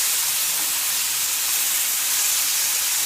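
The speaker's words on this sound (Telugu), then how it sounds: "కొంచెం ఈ టమాటా ముక్కలు వేగనివ్వాలి ఈ ఆయిల్లో." Tomato pieces fry in oil for a chutney, giving a loud, close, continuous hissing sizzle with no break.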